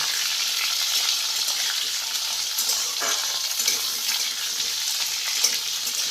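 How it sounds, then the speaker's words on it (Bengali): Potatoes fry in a pan for a Bengali-style fig curry, a steady close sizzle and crackle of hot oil running throughout with small stirring scrapes, no talking. "খুব ভালো করে একটু ভাজা ভাজা করে নেব"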